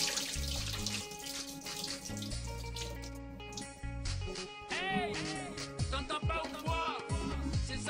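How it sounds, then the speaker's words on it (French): Water poured over soaking ingredients for Burkina Faso gonsalga: a continuous splashing, gurgling pour with bubbling and dripping, loud and close, fluctuating in intensity as it fills the container. "Puis je vais remettre encore de l'eau."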